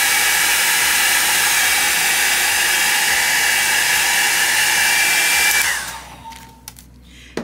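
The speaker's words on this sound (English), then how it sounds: "Now I'm going to take my blow dryer and make sure it's completely dry." A blow dryer roars close up, drying an alcohol ink painting, a strong steady whoosh that runs continuously for several seconds before switching off and fading to near quiet.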